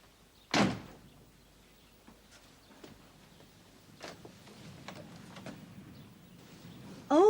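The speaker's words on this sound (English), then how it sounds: "Elizabeth, the door." A door opens with a sharp knock-like thump, followed by quiet shuffling and small clicks, then a loud creak or slam at the very end, in an indoor household scene with no talk.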